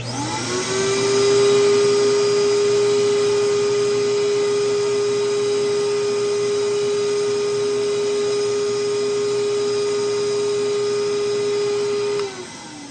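A Record Doctor record cleaning machine vacuums a vinyl record with a loud, steady motorized whine that holds constant for about twelve seconds, then cuts off abruptly, with no talking.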